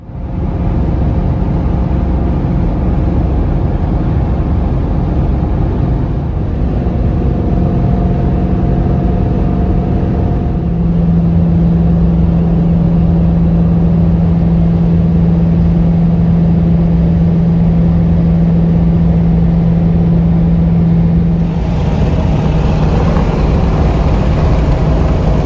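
Interior drive in a 2021 Ford Mustang Mach 1: steady loud road and engine rumble throughout, with a sustained low drone midway and a shift in tone near the end.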